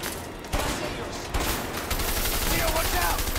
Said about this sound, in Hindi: Grenade launcher.